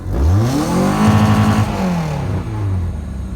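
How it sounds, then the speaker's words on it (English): A 1997 Toyota Camry engine revs hard and bounces off the rev limiter, its loud close drone rising, stuttering with a rapid on-off cut at the top, then falling and climbing again. "bounce it off the rev limiter so she knows we hate her"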